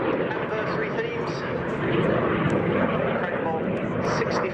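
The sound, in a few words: jet trainer aircraft flying overhead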